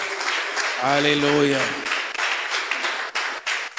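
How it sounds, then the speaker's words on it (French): Church congregation clapping in a continuous, crackling wash of applause, while a voice calls out loudly over it partway through. "Applaudis plus fort, plus fort, plus fort, plus fort."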